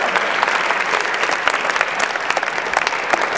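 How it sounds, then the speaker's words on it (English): A school assembly audience applauding loudly, a thick, sustained crackle of many hands clapping together that stays steady and close throughout, with no talking over it. "Can we give Rose another really hand of applause?"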